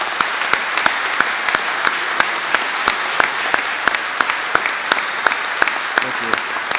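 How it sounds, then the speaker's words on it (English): Applause at an Armed Forces Day event, with sharp claps landing in a steady, regular rhythm over a faint background hiss. "Let's give a round of applause for Mark and his team at Maximum Promotions."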